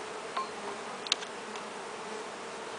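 A faint, steady hum of honeybees buzzing during a hive inspection, with a couple of brief clicks and a soft whine.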